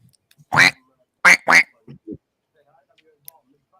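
A person imitates a duck, giving a few short, nasal quacks up close: one, then a quick pair, then two softer ones trailing off into quiet.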